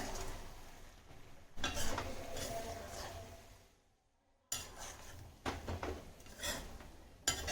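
A spoon stirs brinjal cashew masala poriyal in a pan. Close scraping and clinking come in two bursts split by a brief quiet gap, with a faint sizzle underneath.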